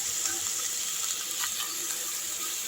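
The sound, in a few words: chicken frying in pan with ginger garlic paste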